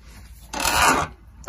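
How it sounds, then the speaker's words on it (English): A small desk lamp gives off a rough, raspy scraping noise for about half a second, fairly close and moderately loud, followed by a short sharper scrape at the end, with no talking. "Sorry, that sound is my lamp,"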